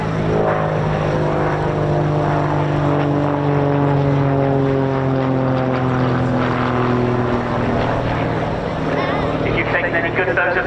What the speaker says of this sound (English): bring the tutor around with the parting wave at 100 feet